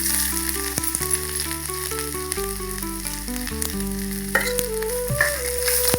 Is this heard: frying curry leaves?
yes